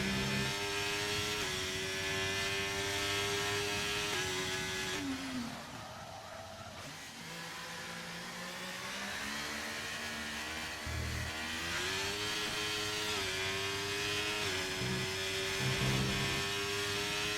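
A Ferrari Formula 1 car in a racing video game howls through a qualifying lap, its engine note rising and falling through upshifts and braking, with a deeper dip mid-lap before climbing again, loud and close throughout.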